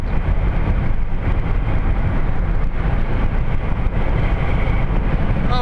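A car drives straight along the highway, and its steady loud road and engine rumble fills the cabin from start to finish with no break.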